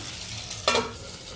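Fish fries in a pan with a soft, steady sizzle, and a short, louder burst of sizzling and scraping comes partway through.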